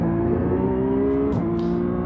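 A Porsche Cup race car in the iRacing video game, on track at Sebring, holds a loud, steady engine drone that rises and shifts sharply once midway, then settles back to a sustained roar with no voices.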